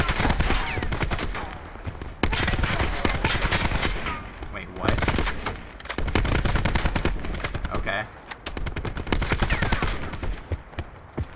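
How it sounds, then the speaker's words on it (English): Rapid automatic gunfire in Call of Duty Black Ops 4 rattles in long dense bursts with brief pauses, loud and close throughout the match. "it's like a lot of shooting too, which doesn't help"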